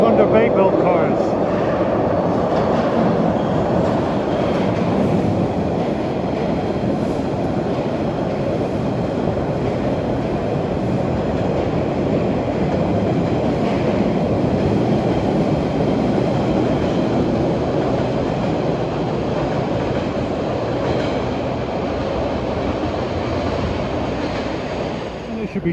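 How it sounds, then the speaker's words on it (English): A Boston MBTA Orange Line subway train with Thunder Bay-built cars rumbles and hums steadily nearby for the whole stretch, a continuous metallic roar of cars rolling along the track. "Here you get a nice clear vantage point of the Orange Line subway."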